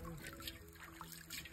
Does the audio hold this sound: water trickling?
yes